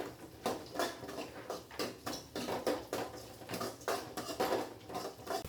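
Food is stirred in a cooking pot with a spoon, producing a string of quick, fairly close clinks and scrapes in an uneven repeating rhythm.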